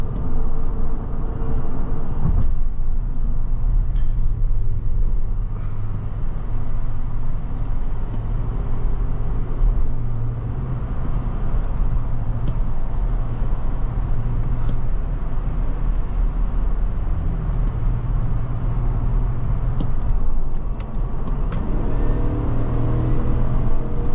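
2021 Chevrolet Suburban LT accelerating hard from 0 to 60, heard from inside the cabin as a steady engine drone that climbs in pitch and stops as the transmission shifts through close-ratio gears, with constant road noise.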